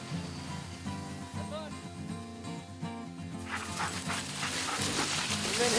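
Sled dogs at the start of a dog-sled run bark, yip and whimper excitedly at close range, several voices overlapping, while people talk and a louder rush of movement builds toward the end.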